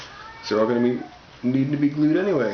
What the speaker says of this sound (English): Apologize if you hear our cat in the background.